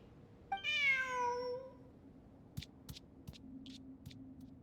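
A cat meows inside the Genshin Impact video game: one long, drawn-out meow, clear and close, followed by several soft, short clicking taps over a quiet, low hum.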